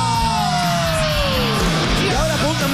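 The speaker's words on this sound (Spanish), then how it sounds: "Van a hacer un gritito de rock and roll." A performer on a Bolivian television talent show lets out a rock and roll yell on stage. The loud, sustained cry glides downward in pitch over a noisy, echoing room before other sounds break in.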